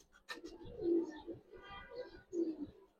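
Giribaz and coloured pigeons cooing in soft, low repeated bursts, close and fairly quiet, with a few short throaty coos and brief rustling between them.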